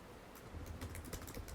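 Fast, light typing on a computer keyboard, a soft cluster of quick, close key taps over a faint room hum, with no talking.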